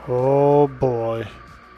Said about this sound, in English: That's the sound of a horde, boys.